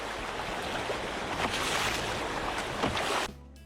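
Canoe running a wild mountain river in Canada, with continuous loud rushing whitewater and splashing waves close by, steady through the run before cutting off abruptly near the end.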